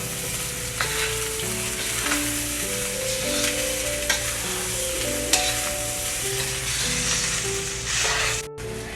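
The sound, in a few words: stirring rice frying in pan with a stick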